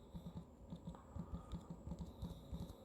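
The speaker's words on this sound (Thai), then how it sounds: "ก็ให้พิมพ์ชื่อ นะครับ อย่างเช่นนะครับ ขอพิมพ์ชื่อนะครับ" Quiet typing of a name on a computer keyboard into an online form, a soft, even run of close key clicks lasting a few seconds with no talking.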